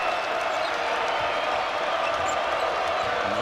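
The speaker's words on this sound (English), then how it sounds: "He's going to get a standing ovation from this Cyclone crowd" A Cyclone basketball crowd at Iowa State rises in a standing ovation, a dense, steady wash of applause and cheering filling the arena, with a commentator's voice running over it.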